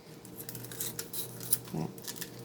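Quiet, quick snips and crisp tearing as mustard greens are cut into small pieces by hand in a kitchen, several short cuts in a brisk irregular rhythm close to the mic.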